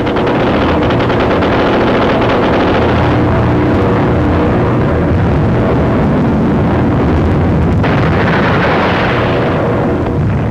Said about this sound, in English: The aircraft fire at gunners on the roof.